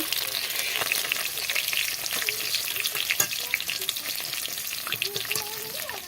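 Pieces of rui fish fry in hot oil, giving a close, steady crackling sizzle with scattered pops and spits that never lets up, heard alone without talk.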